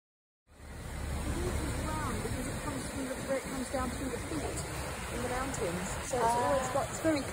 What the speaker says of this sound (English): So that little video of that waterfall, which I really liked, was in Sneem.